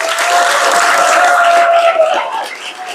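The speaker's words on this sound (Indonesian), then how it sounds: "anak Gen Z yang hari ini punya masalah dengan keuangan silakan tepuk tangan." Students at a vocational high school (SMKN 1 Girimulyo) break into applause in a hall: steady, dense clapping from a large crowd that holds for about two seconds, then thins and fades.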